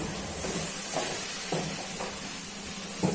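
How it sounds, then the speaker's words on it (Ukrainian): A steady sizzling hiss of food frying in a pan on low heat, low and even, with a few soft clinks of stirring scattered through. "Це робимо, жаримо на маленькому вогні."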